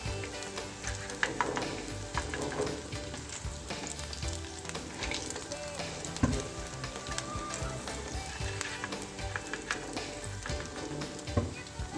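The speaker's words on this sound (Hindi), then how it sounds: "बाकी को भी मैं फ्राई करती हूँ" Onion ring and eggplant pakoras bubbling in a pan of hot oil, a dense, even crackling sizzle with occasional soft knocks of a utensil, heard up close with nobody speaking.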